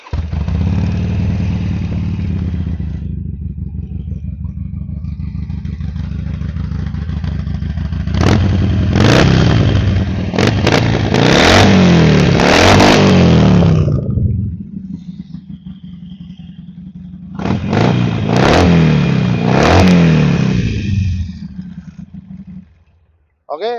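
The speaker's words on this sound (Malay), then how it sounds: "jom kita start tengok ni Harley Davidson Sportster 883" A 2015 Harley-Davidson Sportster XL883 Iron engine fires up and idles with a steady loud rumble, then is revved hard in two bursts of throttle blips before settling back, all close and without talk.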